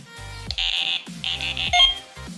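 A Delkim bite alarm being programmed gives a run of electronic tones: a short beep, then steady high sustained bleeps in several pulses over a low hum, close and clear.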